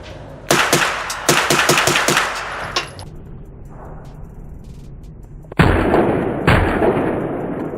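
AR9 rifle fired rapidly at a shooting range: a quick string of about ten loud, close shots, a pause, then a few more sharp reports with echoing tails.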